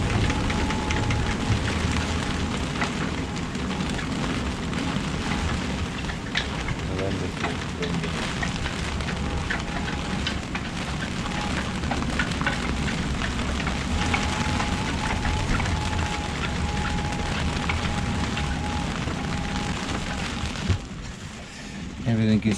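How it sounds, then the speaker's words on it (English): Wind and heavy rain from Hurricane Fiona lashing a boat at anchor in Nova Scotia, a constant loud hiss and patter of rain with wind roaring beneath, steady throughout with occasional louder gusts near the end. "You can hear the wind and rain out here."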